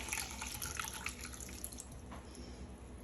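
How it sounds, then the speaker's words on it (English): Water is poured into a pot holding a cup of quinoa, a faint, steady splashing trickle with light dripping, quiet and continuous with no talking. "I have 1 cup and 1 3/4 cup, I should say, of water. We're going to add that as well"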